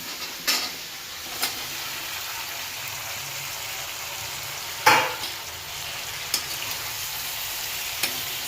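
Colocasia leaf patra rolls hit a hot oil tempering in a pan, giving a steady close sizzle and fry hiss broken by a few sharp stirring clinks.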